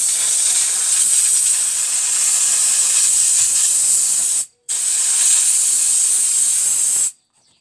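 A sandblasting spray gun driven by compressed air blasts baking soda in a loud, bright continuous hiss, cut off abruptly for a brief moment, resuming, then stopping near the end.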